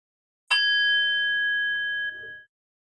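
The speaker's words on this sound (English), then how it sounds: "Bell once." A meditation bell struck once during a live meditation session, giving a single clear bright strike that rings on with sustained pure tones and then fades out, close and alone.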